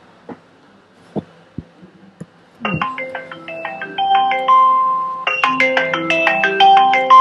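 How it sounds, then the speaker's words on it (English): A mobile phone rings with a melodic electronic ringtone during a religious lecture class, beginning after a few soft knocks and repeating its bright tune loudly for several seconds with no talk over it. "you answer the phone?"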